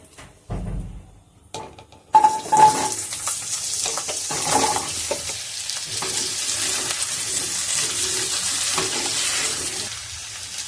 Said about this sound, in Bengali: তেলটা গরম হয়ে গেছে, প্রথমে আমি আলুগুলো ভেজে নেব।